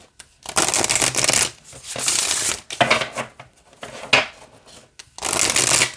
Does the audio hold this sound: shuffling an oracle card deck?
yes